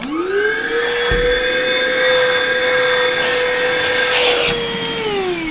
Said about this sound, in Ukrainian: ось цей пилосос за своєю потужністю всмоктування не поступається, скажімо так, іншим пилососам споживчою потужністю 100 Вт